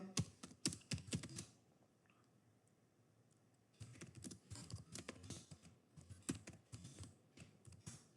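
Typing on a computer keyboard while entering a short message in accounting software, quick clustered clicks in two bursts separated by a few quiet seconds, close and moderately faint.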